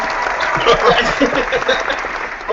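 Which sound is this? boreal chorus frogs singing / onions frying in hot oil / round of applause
round of applause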